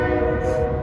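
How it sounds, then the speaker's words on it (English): A loud, sustained train horn blares steadily for a brief moment, close and unbroken, with rumbling low noise beneath. "I love the sound of a train whistle blow."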